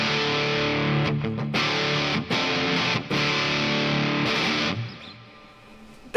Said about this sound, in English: That's a good amount of fuzz. It almost sounds like a really good distortion.